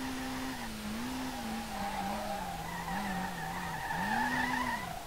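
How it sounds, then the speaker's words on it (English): Tires squeal continuously as the R32 drifts round a full track in SLRR, a sustained wavering screech that rises and falls steadily over an engine drone, loud and close, with no talking. "I'm drifting the full track."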